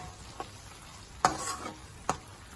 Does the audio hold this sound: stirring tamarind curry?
yes